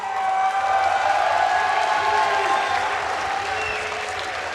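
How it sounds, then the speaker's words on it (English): Sustained loud applause from a large audience at a StarCraft 2 tournament, a steady dense clatter of clapping mixed with faint crowd cheering that lasts throughout. "Give him another big round of applause,"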